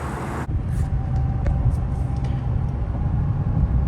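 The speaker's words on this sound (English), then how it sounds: "I'm going down the road again, going 50 right now" Chevrolet Silverado pickup cruising down the road at 50 mph, a steady low rumble of engine and tire noise heard from the cab, continuous and fairly loud after a brief cut at the start.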